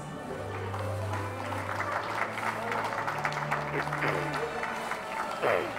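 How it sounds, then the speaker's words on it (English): Guests at a wedding applaud sponsors as they are introduced, a moderate burst of clapping under an announcer's amplified voice and background chatter. "Let's give them a warm round of applause."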